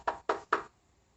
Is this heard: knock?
yes